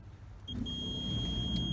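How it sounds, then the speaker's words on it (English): A faint electrical whine and beep as power is switched on, then a 1997 TVR Cerbera's fuel pump starts with a low motorized hum and keeps running steadily inside the car. "you heard the fuel pump"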